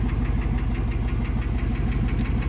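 An idling truck engine with a rapid, regular ticking knock from a bad lifter riding over its low rumble, steady and close.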